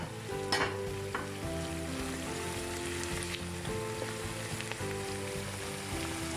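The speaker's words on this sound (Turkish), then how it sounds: "Hemen üstüne sarımsağımızı da ilave ediyorum. Bir iki dakika onu da kavrulduktan sonra" Onions and garlic sauté in a pan for a lentil-bulgur köfte (mercimekli köfte), giving a steady close sizzle with scattered stirring scrapes and clicks, no voices.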